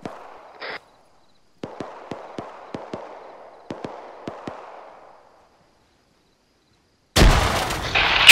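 A frag grenade and gunfire in the military shooter Arma 3: a string of sharp cracking shots in two bursts, then after a pause a loud, sudden blast close by.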